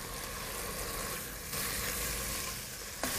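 Salt and pepper pork chops with onion frying in a pan, a steady close sizzle and crackle throughout with a brief brighter hiss near the end, no talking.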